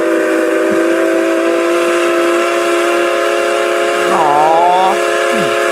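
Steam locomotive number 20 sounds a loud, sustained chime whistle that holds steady for several seconds, then rises into a bent, swooping pitch near the end before cutting off, alone with no talk.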